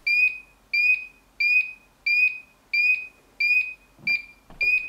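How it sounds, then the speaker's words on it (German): A homemade Arduino VFD clock built around an HCS-12SS59T display and ATmega328 sounds its alarm: a loud electronic beep repeating steadily about every two-thirds of a second, with faint handling clicks near the end. "der eingestellte Alarm sollte auch gleich losgehen"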